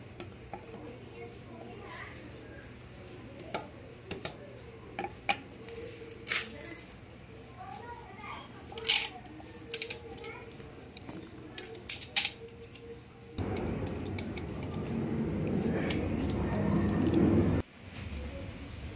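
An impact wrench drives a nut down onto a washer on a repainted magneto, one loud sustained burst of about four seconds coming after a stretch of scattered light clicks and handling noises from the workbench.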